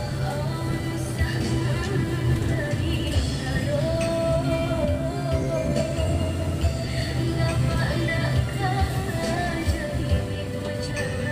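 A train rumbles past steadily, heard from inside a bus, with a low mechanical drone and faint squealing tones running throughout, fairly distant and without clear speech.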